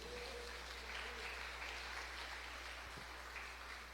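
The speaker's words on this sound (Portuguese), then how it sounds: "Bate palmas para Jesus." A church congregation claps for Jesus in a meeting hall. The applause is faint and diffuse, sustained over a low hum.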